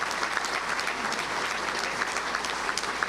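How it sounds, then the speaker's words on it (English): A round of applause from a touchdown club luncheon audience, a steady, evenly textured clapping crowd heard at moderate distance with no talk over it. "Let's give him a round of applause."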